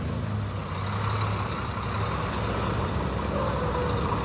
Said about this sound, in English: So as you can see, buses are pulling in.